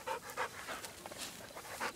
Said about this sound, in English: You a good dog, Zita?